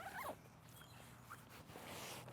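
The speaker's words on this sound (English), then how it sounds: "Alrighty, and let's zip this back up." A zipper being drawn closed on a Ruggard Thunderhead 75 professional camera bag, a quick near rasp at the start followed by quieter handling noise, with no talking.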